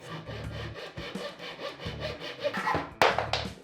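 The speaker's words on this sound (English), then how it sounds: "All I do is just get some dowels and then cut them down to length." A handsaw cuts wooden dowels to length in a small workshop, giving steady rhythmic back-and-forth rasping strokes, close and moderately loud, with no talk.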